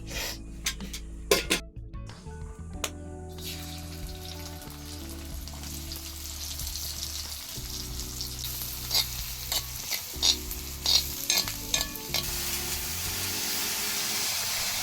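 Finely chopped aakur greens with onion sautéing in oil: a steady sizzle with frequent scraping stirs of a spatula against the pan, close and moderately loud, with no talking.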